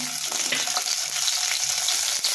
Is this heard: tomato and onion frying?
yes